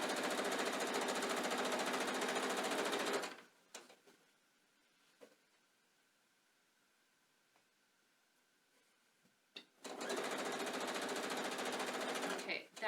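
A sewing machine stitches rick rack binding in two loud, steady whirring bursts, separated by a quiet pause with faint handling clicks.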